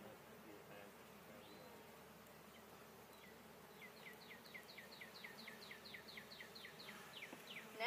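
Honey bees buzzing around an open hive while it is being checkerboarded, a steady low insect drone with some handling noise and a faint rhythmic chirping in the background, soft and continuous.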